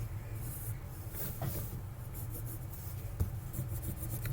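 A pencil sketches a German Panzer tank on paper with soft, close scratching and rubbing strokes that come in short, uneven bursts.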